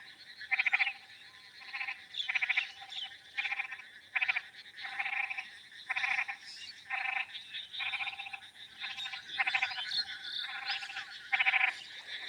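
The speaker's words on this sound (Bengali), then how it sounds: "একটু ব্যাঙের আওয়াজটা শোনেন।" Frogs croak in a flooded rural field after rain, a chorus of rhythmic, rasping calls repeating in bursts about every second, fairly close and clear over quiet background, no voices.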